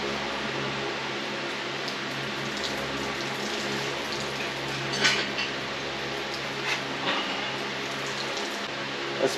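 Water draining from a 383 engine during teardown, a continuous splashing trickle into a pan with a few sharper drips toward the end, steady and close.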